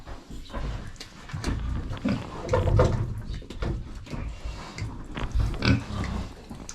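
Piglets grunt and squeal close by in a busy, continuous chorus of snuffling and oinking.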